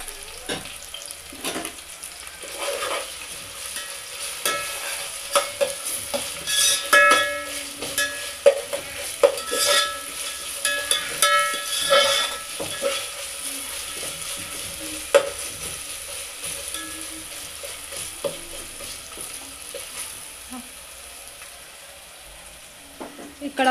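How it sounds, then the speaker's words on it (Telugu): Onions sizzle and fry in a pan for chicken curry while a spoon stirs them, giving a steady hiss broken by scraping strokes and clatter, close up with no talking. "ఇక్కడ ఆనియన్స్ అనేవి బాగా ఫ్రై అయిపోయినాయి."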